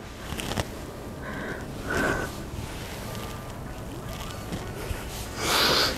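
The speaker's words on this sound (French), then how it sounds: "Prenez des bonnes respirations." Deep breathing during a mobility exercise: several loud, airy inhales and exhales in separate bursts, close to the listener, with no one speaking.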